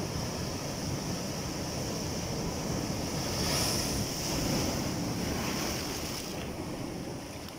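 Big ocean waves crash and splash along a Philippine shore, a loud continuous roar of surf mixed with heavy wind buffeting the microphone.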